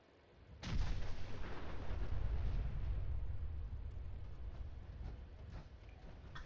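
A loud explosion in Fallout 4 bursts in suddenly, then rolls on as a long rumbling roar that slowly fades over several seconds, with no speech.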